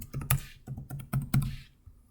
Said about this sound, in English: you can sign your application here by typing in your name